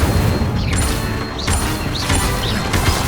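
Fire spells cast repeatedly in Hogwarts Legacy, a loud booming crackle with sharp whooshing sweeps recurring about every half second to second across a dense, continuous roar of magical combat.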